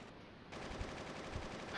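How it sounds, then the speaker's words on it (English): Video game gunfire in a prison breakout scene from Final Fantasy VIII rattles faintly in the distance, a muffled burst of repeated shots over a steady low ambient hum. "What was that? Gunfire?"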